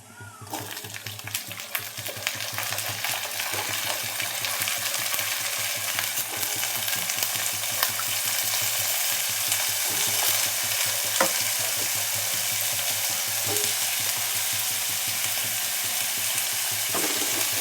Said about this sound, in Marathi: परतून घ्यायचे आपल्याला बटाटा.